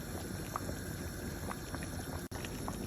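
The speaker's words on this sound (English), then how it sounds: "So while my potato is boiling nicely" Potatoes boil in a pot with crayfish pottage, a steady soft bubbling and simmering hiss that stays even and close with a few faint pops and one brief dropout.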